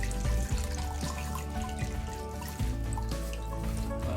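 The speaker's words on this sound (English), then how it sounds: "then you can have to dip it in water a little bit" Plant roots being dipped and swished in water to loosen clinging soil while repotting, producing continuous close sloshing, trickling and dripping with a few soft splashes and no talking.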